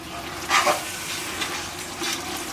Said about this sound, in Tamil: 150 கிராம் அளவுக்கு இஞ்சியை வந்து நான் என்ன பண்ணியிருக்கேன், தனியாகவே அரைச்சிட்டேன், அதையும் எடுத்து போட்டு நல்லா வதக்கிக்கலாம்